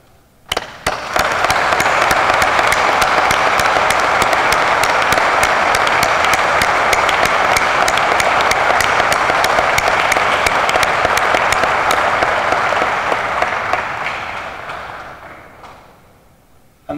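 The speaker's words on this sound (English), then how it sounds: "I wonder if you would just join me in a round of applause for those who are serving currently on operations throughout the world and their families." Audience applause at a poppy appeal launch event, a long loud burst of sustained clapping that rises sharply, holds steady for about twelve seconds, then tapers off as the crowd finishes.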